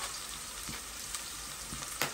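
Onion cooking in a pan for rougail, giving a soft, steady sizzle with a few faint clicks and stirring taps on top.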